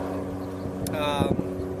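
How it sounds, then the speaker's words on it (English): An airplane passes overhead outdoors, a steady low engine drone with tonal hum running throughout, while a voice talks over it. "There's an airplane flying over, so hopefully that's not too loud"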